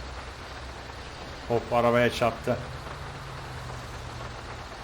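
Steady rain hisses throughout with a low engine-like rumble beneath, in the video game GTA 5 on a jammed motorway, and a voice briefly speaks over it midway.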